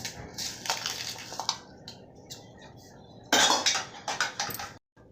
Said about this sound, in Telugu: ఈ విధంగా ఎండు మిరపకాయలు చింతపండు బాగా ఇట్లా నలుపుకోవాలండి